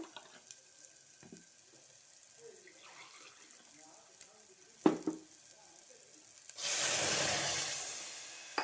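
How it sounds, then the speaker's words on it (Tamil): Water is poured onto rice and black-eyed peas for cooking, starting as a steady splashing gush late in the clip after quiet kitchen clatter and a couple of knocks. "இதால் ரெண்டு டம்ளர் அளவுக்கு தண்ணி ஊற்றப்போ போகிறோம்"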